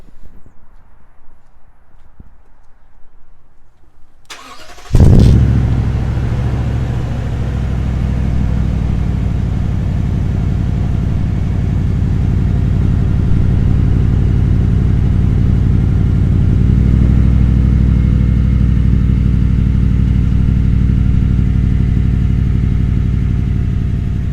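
Quiet shuffling, then a starter whir and a 2021 Toyota Tundra TRD Pro's V8 barks to life on a cold start, settling into a loud, steady, deep idle that stays strong and rumbling.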